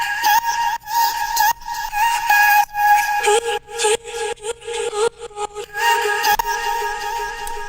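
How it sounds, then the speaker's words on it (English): A chopped vocal sample from Splice carries a driving electronic melody, short pitched syllables in a choppy, rhythmic pattern with brief gaps, alone and fairly loud. "which is actually just a vocal chop that sounds like this"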